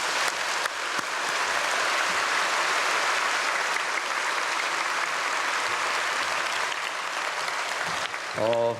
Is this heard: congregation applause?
yes